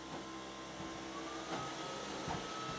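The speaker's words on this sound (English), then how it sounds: "I don't know if you can hear that damn vacuum" A vacuum cleaner runs in the background indoors, a steady droning whine with a rising tone, moderately faint and continuous throughout.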